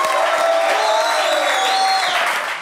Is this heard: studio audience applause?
yes